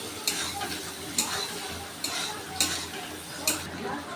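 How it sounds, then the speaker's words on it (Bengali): Greens frying in a pan with salt and turmeric, a soft continuous sizzle punctuated by about five evenly spaced utensil scrapes as the food is stirred. "আবার একটু ভালো করে ভেজে নেব।"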